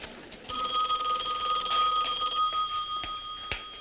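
A telephone rings in a 1970s home, its bell trilling in a continuous, fairly loud burst with a couple of sharp knocks near the end, no voices over it.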